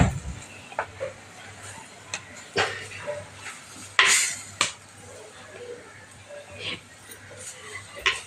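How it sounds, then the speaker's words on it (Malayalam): Sautéing in a pan: scattered spatula scrapes and metallic clinks against the pan over a low sizzle, close by, with a few sharper taps and a faint background hum. "ഞാൻ വഴറ്റിക്കൊണ്ടിരിക്കുവാണ്."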